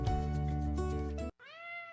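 A shelter cat meows twice, a long drawn-out tonal cry followed after a brief gap by a shorter, rising meow, close and clear with no other sounds.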